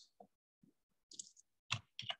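A computer mouse clicks several times, crisp isolated clicks spaced apart in a quiet room, the last few coming closer together.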